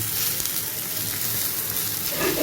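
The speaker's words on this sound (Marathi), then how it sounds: "हे बघा तवा रवा हलवा फ्राय आपला रेडी होतो" Rava-coated pomfret-style halwa fish slices sizzle and fry on a hot iron tawa, a steady close crackling hiss with no talk.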